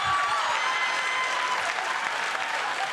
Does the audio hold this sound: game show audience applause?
yes